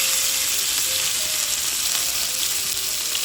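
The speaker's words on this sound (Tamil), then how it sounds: "கனவா பொரிச்சா தெரிக்கும்" Squid fries in hot oil with a steady, close hiss of sizzling and dense crackling that holds unbroken throughout.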